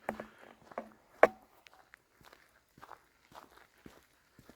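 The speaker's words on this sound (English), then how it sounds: "You may be able to hear my footsteps, and as I walk towards this windrow" Footsteps crunch and tap on the ground while walking outdoors in a vineyard, an irregular series of light, close steps with one louder thump early on, over quiet surroundings.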